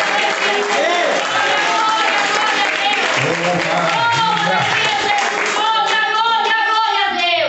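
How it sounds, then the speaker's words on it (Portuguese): A church congregation claps in praise of God at the close of a prayer campaign, a loud continuous wash of applause under a preacher's amplified voice and worship music with sustained tones. "Você pode louvar a Deus com as palmas para o encerramento dessa campanha."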